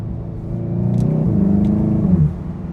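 A Cupra 300 with DSG gearbox and resonator delete accelerates hard in second gear, its loud engine note rising steadily with a deep rumble and a couple of brief crackles midway, heard from inside the car with no talking.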